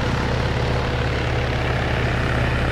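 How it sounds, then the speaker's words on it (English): A helicopter in the video game Arma drones with a constant, loud rotor and engine hum, a steady low pulsing throb that fills the whole moment without any pause or speech. "That's the chopper."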